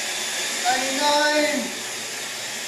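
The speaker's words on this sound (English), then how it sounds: "we're going to blend all this together. This little nifty blender here." A small countertop blender whirs steadily while blending pasta marinara sauce ingredients, a close, continuous motor drone that swells slightly in the middle, with a voice speaking briefly over it.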